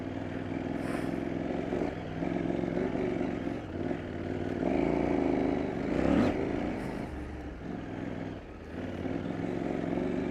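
A KTM 790 Adventure R motorcycle rides off-road with a steady, loud engine drone that swells and dips as the throttle changes, with no speech over it.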